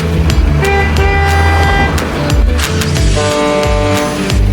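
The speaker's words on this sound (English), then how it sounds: "B for bus." A bus sound effect for a children's vehicle alphabet lesson, loud engine noise broken by repeated honks of the horn in short blasts, with no talking.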